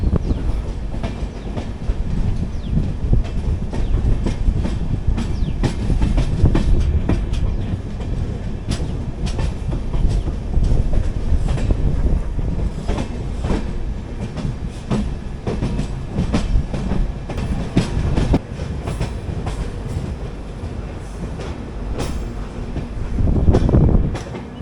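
The Hubballi Kochuveli Weekly Express rolls along the rails with a loud, continuous rumble and rhythmic clickety-clack of wheels over joints. Swells in the noise mark its passage near Banaswadi, and no one speaks.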